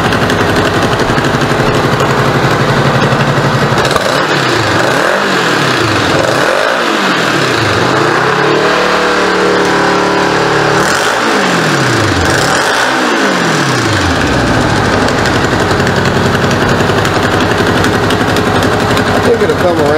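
A 1986 Honda Goldwing GL1200 SE-I motorcycle engine runs loud and steady with an exhaust leak, its rough idle rising in several quick revs that sweep up and fall back.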